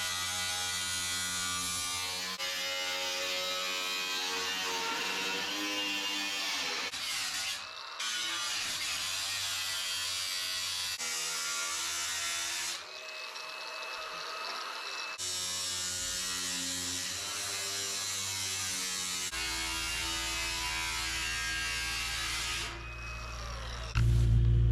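A power tool with a cutting blade saws through the metal front panel of a washing machine, a steady, loud, close whine that runs for over twenty seconds with brief dips and pitch shifts as the blade bites.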